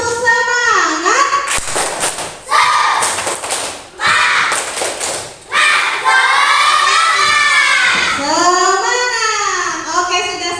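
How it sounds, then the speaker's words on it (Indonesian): Indonesian schoolchildren in a classroom do a loud tepuk semangat chant, with shouted voices in unison and bursts of rhythmic clapping that rise and fall over several rounds. "Tepuk semangat."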